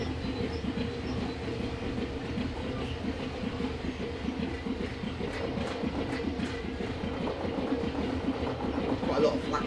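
Train wheels with flats clatter in a steady rhythmic thumping on a Train Simulator run along the Cynan Vale, a continuous rumbling ride heard from inside the train, fairly loud, with a voice speaking over it.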